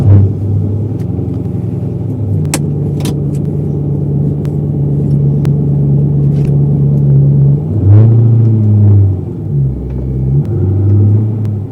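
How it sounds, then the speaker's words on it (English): A Corvette C6 being driven around, its engine a deep steady rumble that swells into louder revving surges near the end, close and continuous, with a few sharp clicks and knocks early on and no speech. "So yeah, let's do a little drive around."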